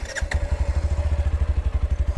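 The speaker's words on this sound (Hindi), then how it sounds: "ये आइडल पे है साउंड" A Hero Glamour X motorcycle engine idles in neutral close by, a steady low putter of evenly spaced thumps.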